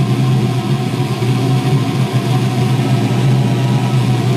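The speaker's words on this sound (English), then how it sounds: "And sorry about the noise, but that's the heater running here pretty nicely." A home-built oil heater running to heat a whole house gives off a loud, constant, low mechanical hum and roar that holds steady from start to finish.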